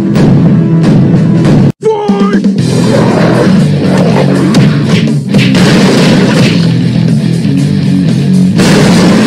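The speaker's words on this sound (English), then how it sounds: "Pyrotechnics!" Cartoon pyrotechnics at a wrestling event go off as a booming blast, followed by a sustained loud roar of fire and crowd noise.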